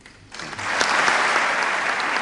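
Congress members and senators in Spain's Cortes Generales give sustained standing applause for the King's speech opening the sixth legislature, the clapping swelling quickly into a dense, loud, continuous roar from a large chamber.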